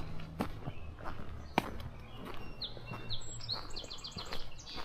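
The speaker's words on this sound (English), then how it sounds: "Yeah, song sparrows." Song sparrows sing on a morning walk in Belfast, Maine, with bright chirping phrases repeating in the distance over footsteps crunching steadily underfoot and outdoor background noise.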